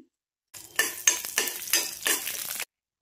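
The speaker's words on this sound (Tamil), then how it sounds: "நம்ம நெய்யில் வந்து முந்திரி கிஸ்மிஸ் வந்து வறுத்து போட்டுடலாம்" Cashews sizzle frying in hot ghee with a few stirring scrapes, steady crackle for about two seconds, close and fairly loud, no talking.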